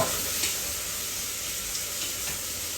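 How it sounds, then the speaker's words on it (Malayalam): Ingredients sautéing in hot ghee for ghee rice, a steady broadband sizzle with soft stirring scrapes, close and continuous with no talk. "എല്ലാം ഒരുമിച്ച് ചേർക്കുന്നത് നല്ലോണം ഒന്ന് വഴറ്റുക ഇത് ആ എന്താ പറയുക നെയ്യിൽ കിടന്ന് വഴറ്റുമ്പോൾ നല്ല സ്മെല്ലായിരിക്കും"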